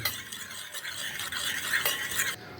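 Camphor is stirred in a pot until it melts, making a continuous close scraping and swishing of stirring with a faint sizzling undertone throughout and no talking.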